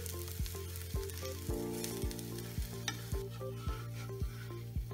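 An eggless vegetable omelette sizzles in a pan, with regular scraping and tapping strokes of a spatula as it is turned, close and continuous with no talk.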